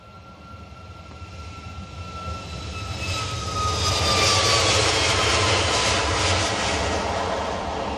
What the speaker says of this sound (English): here comes your 737-800 to Skiathos. Spectacular landing where these guys are going.